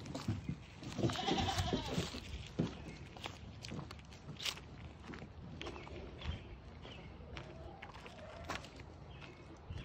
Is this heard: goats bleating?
yes